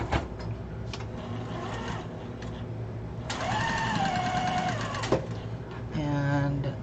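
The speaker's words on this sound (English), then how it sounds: "And sew it in." A sewing machine stitches fabric pieces together for a pillow or wall hanging, its motor running in steady bursts with a rising whir and a brief pause midway before resuming.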